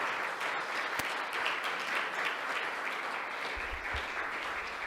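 Steady, moderately distant audience applause in a hall after a talk on the Ramayana, even clapping held throughout at a consistent level.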